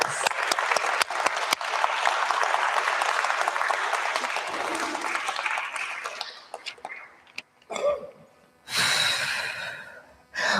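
Mourners at a memorial celebration of life applaud warmly. The dense clapping fades after about six seconds into scattered claps and breathing close to the microphone, and then a loud noisy burst follows.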